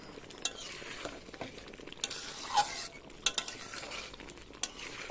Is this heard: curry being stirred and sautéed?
yes